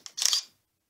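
DSLR camera shutter firing a single shot, a sharp close mechanical click followed by a quick clattering mirror-and-shutter snap, then silence.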